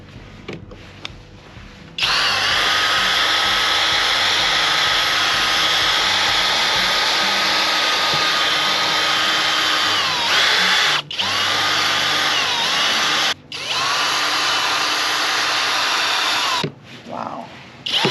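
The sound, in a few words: power drill wet sanding a car headlight with 3M sanding disc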